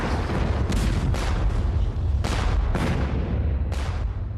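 Naval explosive shells fired on a Turkish squadron in a Crimean War battle come through as a dense barrage of repeated booming blasts over a constant rumbling roar, several sharp reports standing out in close succession.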